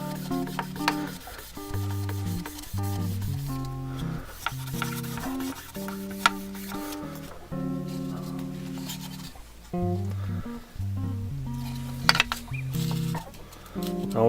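Sandpaper rubs over 3D-printed ABS and PLA parts in repeated close scratchy strokes, with a soft tonal background and occasional sharp ticks, and no talking.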